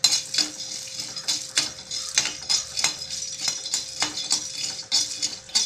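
Peeled roasted peanuts are stirred in a hot pan, with a spoon scraping and rattling in repeated strokes and the nuts scattering across the metal, close and fairly steady, with no talking.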